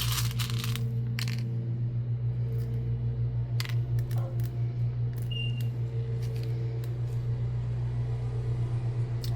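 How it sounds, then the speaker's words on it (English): A lawnmower's steady low engine drone hums outside in the background, with scattered clicks and clatters up close as resin sculpture pieces are handled. "Sorry for the lawnmower noise."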